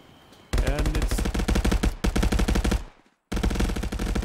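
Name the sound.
gunfire in the video game Contractors VR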